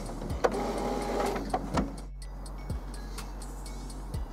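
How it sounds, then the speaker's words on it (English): An HP Officejet 6950 printer running a printhead cleaning cycle, with quiet mechanical whirring, a low motor hum and scattered clicks and taps from the carriage, faint and intermittent. "Printer will chug away for a little while."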